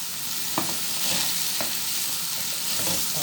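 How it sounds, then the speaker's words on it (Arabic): Onions frying in a pan give a steady, close sizzle dotted with a few sharp crackles and pops. "نحمرهم بقى كده حلو مع بعض"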